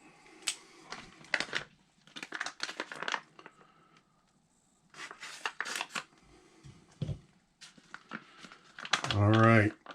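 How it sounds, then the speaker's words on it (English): Scissors cutting open a plastic pouch from a 2019 Canadian MRE, with crinkly snipping and rustling in bursts mixed with handling noise, up close and fairly quiet, ending in a louder tearing crunch. "gotta cut this open with a scissors or knife."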